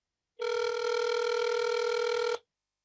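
A telephone gives one steady electronic ring lasting about two seconds, clear and moderately loud, starting and stopping abruptly against silence.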